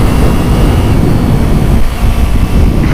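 A second-hand Kawasaki Ninja 250R parallel-twin motorcycle engine runs hard at high revs, a loud, steady, buzzing drone with heavy wind rush, close and continuous without any talking.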